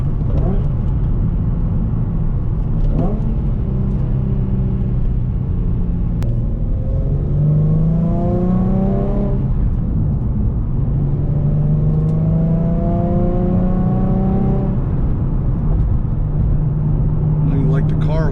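Stock Nissan 350Z Nismo with a VQ engine and Nismo S-Tune exhaust pulling through the gears from inside the cabin, a steady low drone with rising rev sweeps and shifts, under someone talking throughout.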